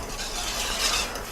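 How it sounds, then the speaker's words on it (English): BBQ sauce is whisked in a pot, making a steady close scraping and swishing with a brief brighter rasp near the end. "but you want to make sure that you keep whisking."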